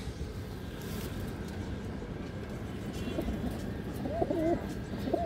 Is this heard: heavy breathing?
no